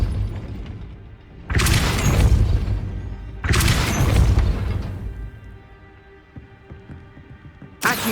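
The Depulso force spell being cast in the game Hogwarts Legacy: two heavy booming crash bursts a couple of seconds apart, each decaying into a rumbling tail, followed by a quieter mechanical rattle and a final sharp hit.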